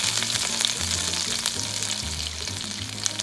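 Mustard seeds, curry leaves and green chili fry in hot oil for a puffed rice upma. A steady, close sizzle carries bright crackling pops throughout, with no talking.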